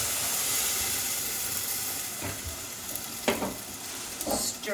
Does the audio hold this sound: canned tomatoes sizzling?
yes